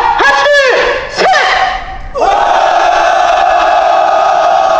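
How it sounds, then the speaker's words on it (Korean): A crowd of marchers at a labor protest lets out a loud, sustained angry roar, rising whoops and shouts that dip briefly and then swell into a long, steady collective yell. "우리 모두 마음속에서의 분노를 담아서 함성 한번 질러보도록 하겠습니다"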